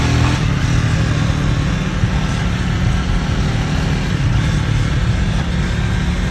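A Musstang Fortuna motorcycle engine runs steadily and loudly throughout, a low rumbling drone with some wind roar over it.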